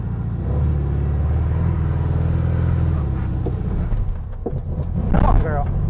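An old, long-abandoned VW Beetle rumbles loudly up close as it drives through a muddy ditch. The engine drones steadily, then labors and revs, with splashing and clunking near the end.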